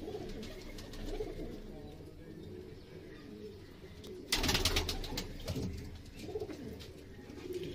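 Domestic pigeons in a home breeding setup coo softly and steadily, with scattered chirps and a burst of wing flapping midway; the birds sound close and moderately faint, with no talk over them.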